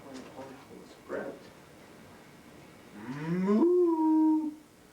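Clover Cow gives a long, rising and then held moo near the end, clear and fairly loud, after some soft murmuring voices and a brief earlier sound; it may be a person imitating the cow.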